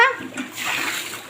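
Water splashes and sloshes inside a house flooded about four feet deep in Uttar Pradesh, a short close burst of wet splatter with a faint voice underneath.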